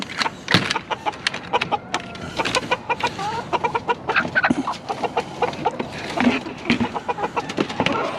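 Several silkie chickens cluck and chatter close by in quick, irregular bursts, a busy flock with overlapping calls.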